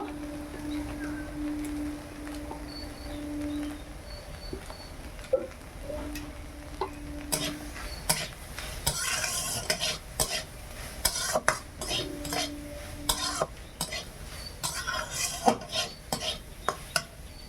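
Spices with cumin powder stirred in a pan for a chicken curry: quiet frying with a faint hum early on, then repeated clattering scrapes and knocks of a spoon against the pan, uneven and close.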